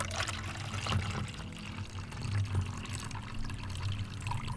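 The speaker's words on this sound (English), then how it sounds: "We're going to pour some more water in and see what happens with an even greater slope." Water poured onto a sloped soil surface in an erosion experiment, a steady close splashing and trickling flow with light fluctuations.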